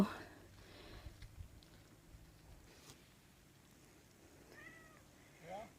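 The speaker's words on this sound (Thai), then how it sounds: "แมวป่า" A small kitten outdoors in a damp forest gives a couple of faint, short meows near the end. They rise out of quiet ambient noise with occasional soft rustles.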